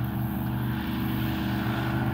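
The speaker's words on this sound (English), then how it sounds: "There's lots of airboats here. I can hear one coming." Steady propeller-engine roar of an airboat on Lake Kissimmee, a continuous loud drone holding at constant level with no other sounds.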